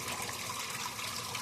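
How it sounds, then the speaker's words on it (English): Water is poured into a garden pond in a yard on a hot day, a continuous gushing, splashing flow heard close and steady for the whole moment with no talking. "I add some water to my pond here."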